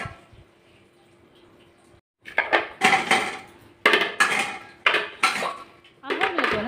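Clay agal vilakku lamps being washed in plain water, a burst of close clinks and knocks of earthenware against a vessel with splashing, coming in clustered bursts after a quiet start.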